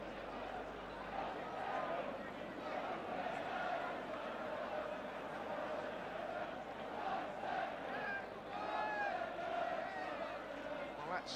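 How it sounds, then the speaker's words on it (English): A football crowd roars and cheers after a goal at a First Division match between Tottenham and Swansea City, a broad, swelling wall of voices with shouts rising from it, and a voice heard over the noise. "Brought the crowd to life."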